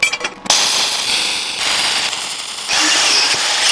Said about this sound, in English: So we'll just weld some round stock into these notches.